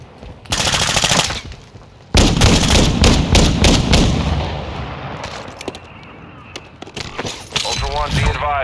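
Rapid bursts of automatic gunfire in a Call of Duty DMZ match, loud and close, with a brief lull in between and sustained fire afterward, while a voice talks over the shooting.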